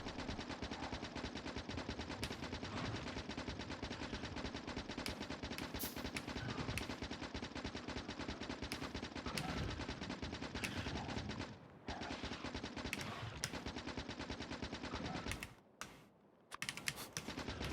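Gun turrets in the video game Factorio with the Krastorio2 mod fire in rapid, continuous bursts, a dense rattling stream that carries on almost without pause and drops out only briefly near the end; no voices.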